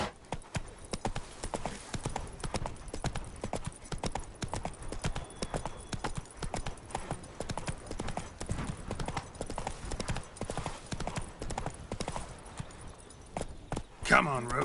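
Roach the horse walking in The Witcher 3: Wild Hunt – Blood and Wine, a steady run of close clip-clop hoofbeats throughout with a short snort or whinny near the end, under occasional speech.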